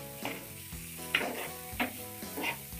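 Tomatoes sauté in fried masala in oil for Dhaba-style bhindi masala, a soft steady sizzle broken by a few brief scraping stirs at regular intervals, close and gentle with no talk.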